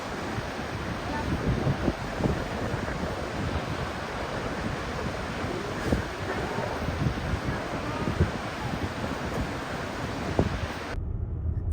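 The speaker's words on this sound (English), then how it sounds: "I've never seen Yosemite Falls with this much water before." Yosemite Falls roars as a constant broad rush of heavy water, loud and unbroken, mixed with gusty wind buffeting the microphone until it cuts off near the end.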